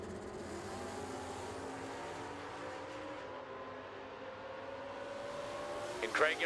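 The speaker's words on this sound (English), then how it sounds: "Vic Ellinger, a 1980 Volvo with the big block Mopar on board" At a drag racing event, a 1980 Volvo fitted with a big block Mopar engine is heard as a steady, fairly distant engine drone that holds on and swells slightly near the end.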